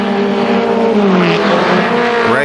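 ARCA SuperCars race at KilKare Speedway, engines roaring loud and close in a sustained harmonic drone with shifting pitch as cars pass near the finish, no talk over it.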